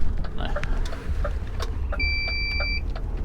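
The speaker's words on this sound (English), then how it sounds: "Like that car coming down that way." A car passes along a nearby road, its engine and tyre noise swelling and fading under a steady idling rumble, with a brief electronic beep partway through.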